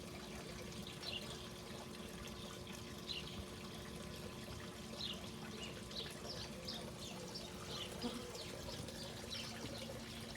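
A pump runs steadily, moving homebrewed spruce tip dunkelweizen wort through a coil cooler, with a continuous low hum and a faint trickle of liquid filling a vessel, heard alone at moderate level for the whole stretch.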